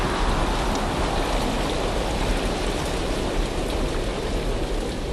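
Heavy rain driven by strong wind in a cartoon story, a dense, steady hiss of falling water that stays close and loud throughout with no voices over it.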